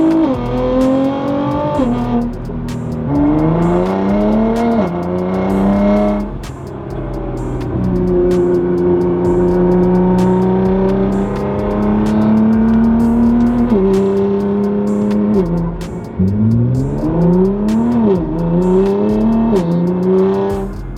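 A Nissan GT-R R35 accelerates hard through repeated gear changes, its engine note rising and dropping in pitch with each shift. The loud, close engine sound stays continuous with no talking.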